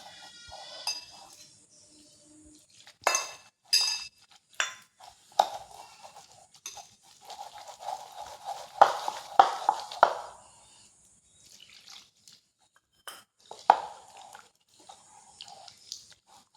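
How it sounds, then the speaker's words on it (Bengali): Flour and water batter for jilapi is beaten by hand in a bowl, making intermittent wet slapping and squelching strokes in irregular bursts, close and fairly quiet, with pauses between. "বেশ কিছুক্ষণ ময়দাটাকে ফেটে নিয়েছি"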